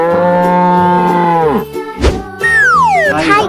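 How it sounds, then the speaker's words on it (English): A cow gives one long, loud, close moo in a children's animal painting cartoon, followed by a short thump and a bright swooping sound effect. "Cow."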